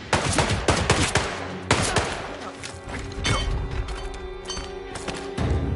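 Rapid gunfire in the stealth action game Hitman III: dense bursts of sharp cracks and booms, loud and close, with overlapping shots in a chaotic firefight.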